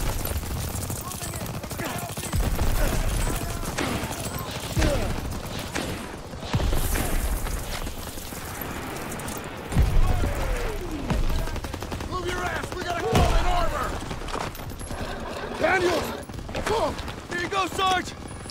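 Gunfire in Call of Duty: World War II during a battlefield mission, bursts of rifle and machine-gun shots with heavy thuds, some near and some distant, under shouted voices and battle noise.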